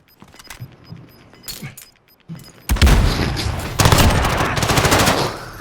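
Silenced gunfire in a video game comes as a scatter of sharp, close shots, then swells into dense, loud bursts of rapid fire that run to the end.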